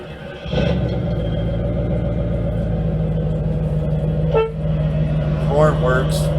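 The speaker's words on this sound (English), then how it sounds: "Horn works." A 1987 Chevrolet Camaro IROC-Z28's horn sounds in a long steady blare over a rumbling engine, with a brief voice heard near the end.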